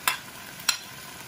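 Garlic drops into a pan of beef frying for Korean glass noodles, with two quick sharp scrapes of stirring over a faint steady sizzle.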